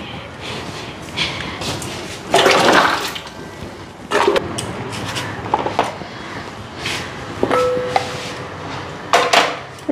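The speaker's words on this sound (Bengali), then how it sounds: "বালতিটার মধ্যে ধুইয়া নিই।" Vegetables are washed by hand in a bucket of water, with splashing, sloshing bursts and clattering handling noises. The sounds come close and irregular in short intermittent bursts, with no talk.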